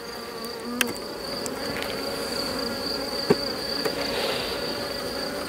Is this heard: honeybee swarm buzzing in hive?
yes